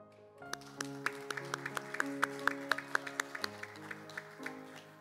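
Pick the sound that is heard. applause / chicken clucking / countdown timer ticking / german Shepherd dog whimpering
applause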